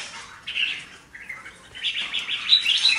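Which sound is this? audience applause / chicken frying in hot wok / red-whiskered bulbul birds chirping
red-whiskered bulbul birds chirping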